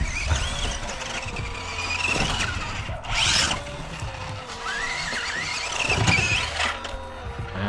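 A Tamiya DT02 Desert Gator RC car runs on a 3S battery with its electric motor whining. The whine rises and falls as it accelerates, and the car sounds fairly distant against background noise.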